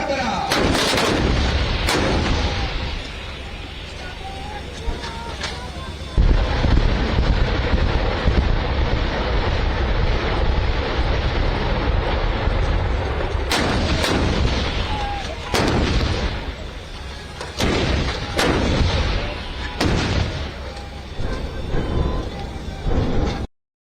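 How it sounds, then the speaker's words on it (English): Indian Army artillery guns and rockets fire during the Topchi firepower exercise at the Devlali field firing range near Nashik: heavy booms and rolling blasts, some in close succession, over steady wind noise outdoors. "The guns and rockets will now fire on Harbara."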